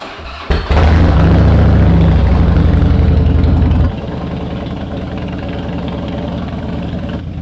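A Harley-Davidson Heritage motorcycle engine idles close by with a loud, lumpy low rumble that eases to a steadier, quieter chug partway through.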